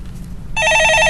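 A telephone bursts into a steady, loud electronic ring halfway through, in a stock market call-in broadcast studio, following a stretch of low background hum.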